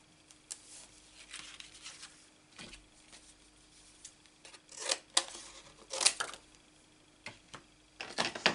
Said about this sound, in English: I'm going to cut it out now.